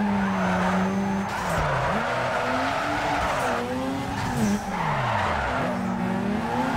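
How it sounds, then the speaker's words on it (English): Tires skid and squeal as an RX-7 drifts in the racing game Need for Speed Underground 2, long sliding screeches bending in pitch over a steady loud engine roar, continuous and close throughout. "Well, I think we're getting the hang of this drifting thing."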